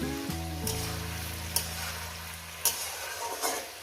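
Onions fry in a pan for a long beans and poppy seed dish, a steady hissing sizzle with a low hum fading early and a few sharp spoon clicks.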